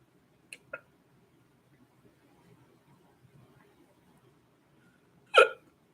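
A man hiccups while watching a football match: a couple of faint quick clicks, then one loud, abrupt hiccup after a few seconds of near silence.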